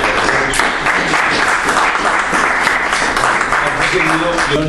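A ceremonial session audience applauds a doctor of law honoree, loud, dense continuous clapping filling a hall, with a murmur of voices underneath and a brief tonal sound near the end.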